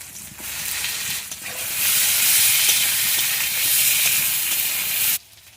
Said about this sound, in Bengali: এবারে এই তেলের উপরে আলুগুলো দিয়ে দিচ্ছি।